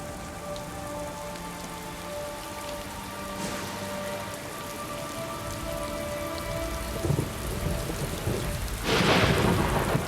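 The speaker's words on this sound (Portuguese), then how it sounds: "O abrigo improvisado protege muito pouco da chuva torrencial." Torrential rain falls hard on a makeshift shelter of plant leaves, with a low rumble of thunder building toward the end and a sudden louder burst of downpour.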